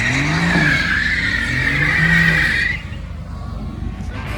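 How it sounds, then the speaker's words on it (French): Tires squealing on a mountain road in Morocco under a Mercedes-AMG GT C or Aston Martin Vantage N430 on brand-new tires, a loud sustained screech over engine roar that cuts off sharply, leaving a quieter engine drone. "Comment fumer des tout nouveaux pneus."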